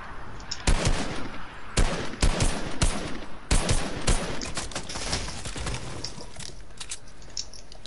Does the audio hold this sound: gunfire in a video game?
yes